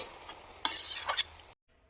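Water splashed into a hot pan of sautéed greens, raising a burst of close sizzling and spattering with a couple of sharp surges before cutting off abruptly into near silence.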